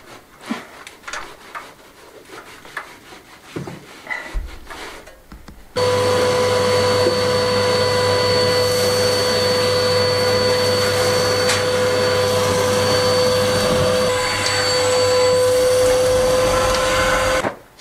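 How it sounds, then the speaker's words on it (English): A loud vacuum cleaner switches on and drones steadily with a high whine, following some scattered scraping and knocking sounds. "I could probably just vacuum the whole house away if these big ones had actually fit into the vacuum cleaner"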